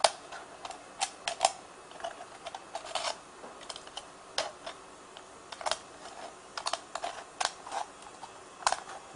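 Sharp, irregular clicks and snips of scissors cutting a thin aluminium beer can, close and fairly quiet, with short pauses between cuts.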